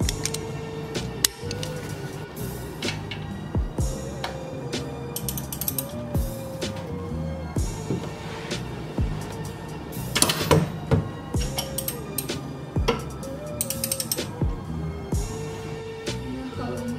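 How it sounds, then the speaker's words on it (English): A ratchet wrench with a 15 mm socket clicks repeatedly while loosening a car's oil drain plug, its steady mechanical ticking sounding close up and alone through the whole stretch. "For the oil plug, you will need a 15 millimeter socket or wrench"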